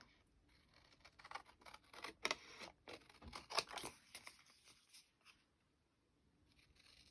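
Scissors trimming along the edges of paper, a run of close crisp snipping and rustling cuts that fade out into quiet near the end.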